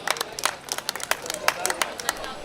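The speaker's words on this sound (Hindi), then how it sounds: "एक बार जोरदार तालियां भाई कामता माखन के लिए" Audience at a Hindi comic poetry gathering applauds for poet Kamta Makhan, a scattered burst of clapping from a moderately close crowd lasting a couple of seconds.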